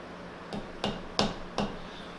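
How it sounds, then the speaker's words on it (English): A hammer, slightly too big for the job, taps a welded metal workpiece four times in a slow, uneven rhythm, each strike sharp and close with a short ringing tone, in a quiet workshop. "I'm gonna take this hammer here."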